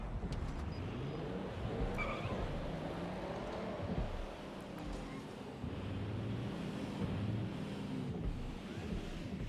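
Car engine in a video game driving fast, a steady mid-level motor drone with a brief high tire-skid squeal near the start, continuous throughout.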